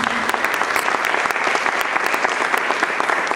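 Dense, steady audience applause at a Colombian artists' gathering, with many hands clapping close together, loud and continuous for a few seconds without any voices.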